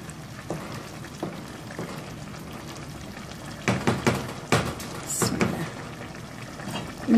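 Soaked basmati rice stirred with vegetables in a pot: soft scraping and shuffling strokes that come in short clustered bursts, growing busier toward the end, with a quiet sizzle underneath.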